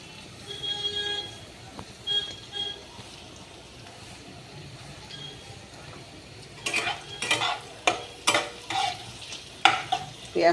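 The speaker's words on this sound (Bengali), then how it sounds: "পেঁয়াজটা ভাজা হোক।" Onion frying in oil in a pan, a quiet background sizzle that gives way to loud, rhythmic scraping and clattering of a spatula stirring against the pan.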